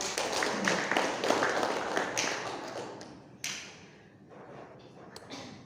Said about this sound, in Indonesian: Beri tepuk tangan buat aku.